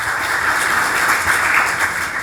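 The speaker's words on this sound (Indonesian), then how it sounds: "Kasih tepuk tangan untuk Tuhan." A church congregation claps during an Easter service sermon, a dense, even wash of applause that fills the room for just over two seconds.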